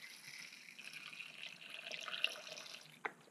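A small measured amount of water, about 50 milliliters, poured into a concrete mix with white pigment, a faint close trickle and splash lasting a few seconds, ending with a brief sharp tap.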